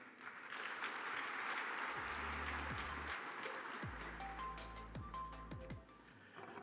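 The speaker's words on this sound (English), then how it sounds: "Another round of applause, please." Applause from an audience at a digital-era conference after a minister's speech, a broad wash of many hands clapping at a steady level, with low tonal sounds sliding underneath.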